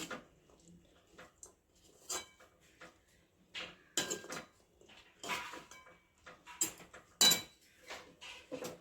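Lemon rice with drumstick leaves being mixed in a pan, giving intermittent close scrapes and clinks of a spoon against metal at irregular intervals, quiet between strokes, no voices.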